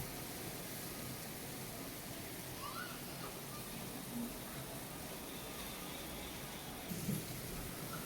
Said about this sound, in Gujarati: વરસાદ થઈ ગયો છે ચાલુ